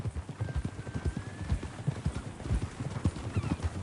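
Horse hooves clip-clopping at a steady walking rhythm in Red Dead Redemption 2, close and distinct over a light outdoor background, with a faint whinny.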